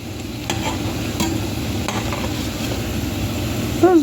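Plantain fries sizzle in hot oil in a home kitchen, a loud, close, steady crackle with occasional stirring scrapes and a brief squeak at the end, no talking.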